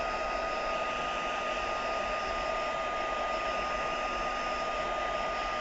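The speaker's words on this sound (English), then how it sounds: "Get a quick blast with the heat gun." A heat gun blows a steady, unbroken rush of hot air over gel pen ink on a papercraft project, loud and close, with no pauses or talk throughout.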